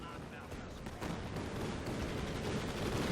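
Calliope rocket artillery salvo in Company of Heroes 2, a dense roaring rumble of launches that grows louder and fuller from about a second in and holds to the end, with a voice speaking over it.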